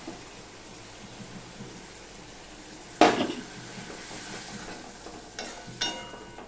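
A Bengali masala fish curry with yogurt is stir-fried in a pan, with a soft steady sizzle, a sharp scrape of a utensil against the pan, and a few lighter clinks.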